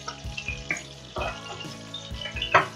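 Oil sizzles steadily in a frying pan just after sausages come out, a close, continuous crackle with a few brief clinks and scrapes of a utensil against the pan.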